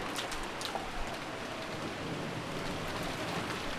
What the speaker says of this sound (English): The wind and rain had neither weakened nor strengthened